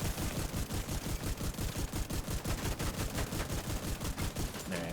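Rapid, loud bursts of automatic gunfire from the shooter game The Division, a fast rhythmic stream of shots running nearly nonstop for several seconds.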